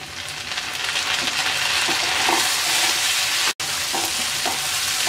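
Chopped tomatoes hit hot onion and garlic in a pan for a snake gourd and lentil dish, giving a loud, steady sizzle with a few soft stirring knocks and one brief cut near the end.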